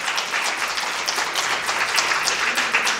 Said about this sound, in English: I think we should all applaud ourselves